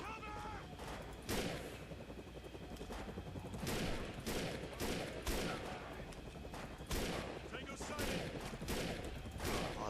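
Rapid gunfire from the video game Defiance, with sharp repeated shots and bursts layered over a dense, noisy battle background, including sniper rifle fire.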